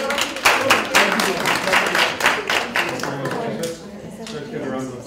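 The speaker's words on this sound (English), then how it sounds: "give him a round of applause for" Applause for a presenter at an academic research seminar, a crowd of hands clapping in fairly close, rhythmic bursts that gradually thin out, with speech underneath.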